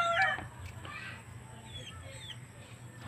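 Chickens cluck and crow nearby in short bursts over faint outdoor background noise.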